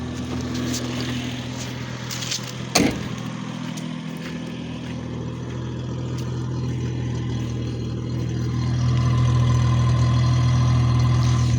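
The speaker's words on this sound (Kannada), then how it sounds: "ಈಗ ಹಿಂದೆಗಡೆ ಸೌಂಡ್ ಯಾವ ಥರ ಬರುತ್ತೆ ಅಂತ ಹೊರಗಡೆಯಿಂದ ಕೇಳಿಸ್ತೀನಿ ರೀ." A Maruti Suzuki Omni eight-seater engine runs, heard from outside at the rear, a steady idling hum with a brief knock early on and the revs and loudness rising toward the end.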